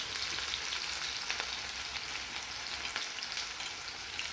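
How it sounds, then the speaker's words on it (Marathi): Vertically sliced onion frying in a pan for kanda poha gives a continuous, close crackling sizzle with faint scraping stirs throughout. "हा कांदा घातला आहे."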